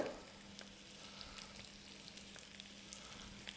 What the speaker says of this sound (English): Nice sizzling, that means that the chicken is starting to seal off.